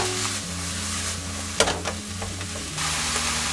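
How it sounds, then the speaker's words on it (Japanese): Minced meat, onion and eggplant stir-frying in a pan, a continuous bright sizzle with scraping spatula strokes and a couple of sharp knocks, close and alone without talk. "その中にひき肉も入れて、ひき肉にしっかりと火が通るように炒めていきます。"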